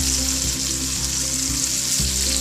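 Half a medium onion hits a hot pan of Punjabi-style stuffed eggplant (bharva baingan), giving a steady, loud close-up sizzle and frying hiss that runs unbroken with no voices.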